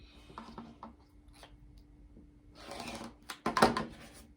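Quilt fabric being cut on a cutting mat, with faint soft scrapes and taps building to a louder crisp slice near the end, all close and quiet with no talking.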